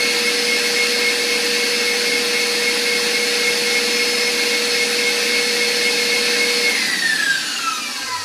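An electric hand mixer whisks root beer float pie filling with a steady, loud, close whine that holds an even pitch throughout, its tone shifting slightly near the end, with no talking.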